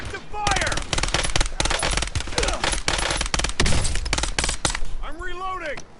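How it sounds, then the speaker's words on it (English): Dense, continuous automatic gunfire in a Call of Duty match rattles loud and close for several seconds, with overlapping bursts and a shouted voice near the end. "Taking effective fire!"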